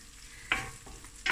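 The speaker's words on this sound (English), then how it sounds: "Just allow that spring onion to cook through a little bit." Spring onion fries in oil for prawn stir-fry rice, a low sizzle broken by two sudden louder bursts of frying as the spoon stirs.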